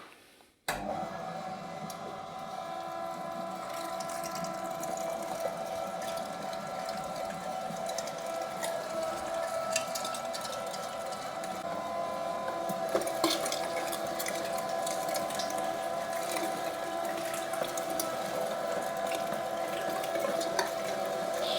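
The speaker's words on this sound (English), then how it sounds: "Let's start grinding the meat." Electric meat grinder with a 6 mm blade grinding pork and beef for sausage, a continuous steady motor hum with mechanical whir and occasional clunks, loud and close for the whole stretch.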